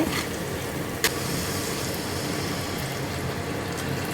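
Water pours steadily into a pan of simmering gravy with a continuous sloshing hiss, a single sharp clink near the start.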